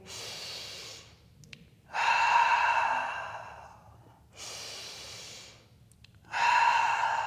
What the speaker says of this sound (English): And we are breathing